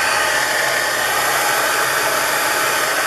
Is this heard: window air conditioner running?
yes